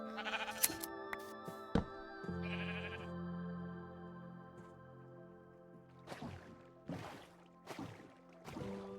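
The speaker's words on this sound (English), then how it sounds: "there's a sheep here" Minecraft sheep bleating in the video game: several short, nasal bleats come in a loose sequence over a quiet backdrop, fairly close and clear, with no talking.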